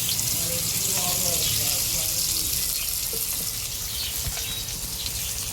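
Sliced onions frying in oil with whole garam masala, bay leaves, cardamom, cloves and cinnamon for a mutton curry: a dense, loud, continuous hiss up close, with a few faint knocks.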